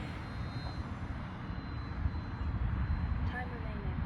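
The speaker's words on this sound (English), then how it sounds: "That plane flies so good." A small battery-powered RC airplane flies overhead, its motor a steady, fairly distant drone that persists through the clip with only slight rises and falls in loudness.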